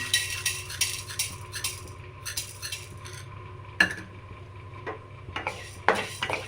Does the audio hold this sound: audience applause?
no